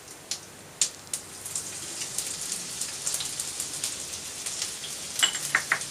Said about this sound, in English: we want the cumin seeds to pop and splutter. You can hear that, they are popping nicely